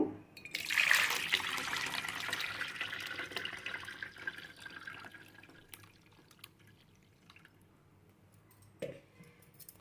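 Pani puri water being strained through a filter, a steady liquid trickle and dripping that is loudest at first and gradually fades, with a short clink near the end and no talk.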